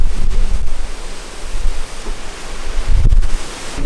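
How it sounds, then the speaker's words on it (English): Strong wind roars outdoors in the snow, a loud continuous rush close to the microphone with heavy low buffeting gusts, especially near the start and toward the end, and no voices. "I don't know if you can hear the wind, but it's going crazy out there."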